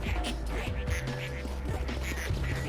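Cartoonish ducks quack in the video game Project PITT, short nasal calls repeating over a busy game soundtrack with low drones, fairly loud throughout.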